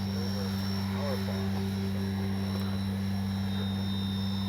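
A FlightLine OV-10 Bronco RC plane with twin propellers drones steadily overhead, a constant tonal hum over wind-buffeted background noise.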